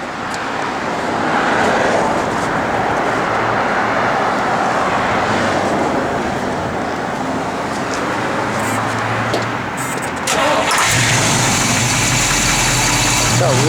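A 1969 Chevrolet Camaro SS engine idles with a steady, close mid-range rumble, and someone talks over it throughout before a brief shift near the end.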